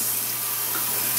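Lukewarm tap water runs steadily while someone rinses a LUSH face mask off her face, a broad continuous splashing rush that stays close and even with no voices.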